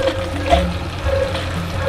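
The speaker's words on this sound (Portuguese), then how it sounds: "Vamos ligar aqui a água." Water running through a Lorenzetti electric shower after a ribbon-type heating element is replaced, a steady close splashing flow with a faint tonal hiss and no talk.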